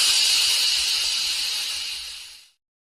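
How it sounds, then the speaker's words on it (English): Steam hisses loudly and steadily in a continuous bright rush, then cuts off abruptly, with no other sounds. "Nobody prepared me for how loud the steam engine noise is at first."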